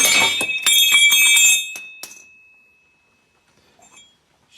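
Metal parts clink and ring in a short flurry of close, bright strikes as a CX exhaust manifold is removed from a BMW E46, with one tone left ringing and slowly fading into quiet.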